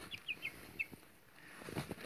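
Chicks of a special mixed breed, including red naked-neck birds, give a few short high peeps close by, scattered through a quiet pen with soft rustling and faint low bumps.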